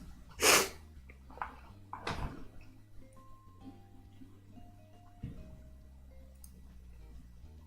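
A single loud, sharp sneeze bursts out near the mic, followed by quieter breathy snorts and sniffs over a soft tonal background.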